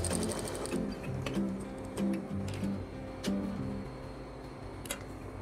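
A sewing machine runs in short bursts while a robe is stitched, its mechanical whirring rising and stopping several times at close range with no talk.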